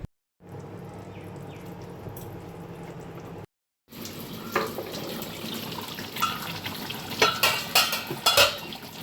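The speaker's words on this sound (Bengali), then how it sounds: "এদিকে তেল পটলটাকে ভালো করে কষিয়ে আমি জল ঢেলে দিলাম।" Water poured into a pan of pointed gourd sautéing in oil, starting with a low simmering hiss that cuts out briefly, then a louder bubbling sizzle with sharp splashes and scraping stirs building toward the end.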